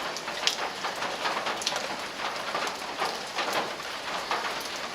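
Rain falling steadily, a dense patter of drops on a nearby surface, continuous and moderately loud with no voices.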